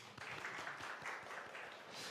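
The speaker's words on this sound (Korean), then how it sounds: "박수 한번 쳐줄까요?" A church congregation gives faint, steady applause, many hands clapping at once in a continuous patter heard at a distance, with no voices over it.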